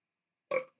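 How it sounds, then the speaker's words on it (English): A single short, fairly loud burp stands alone after silence, lasting about a fifth of a second. "Here come the burps."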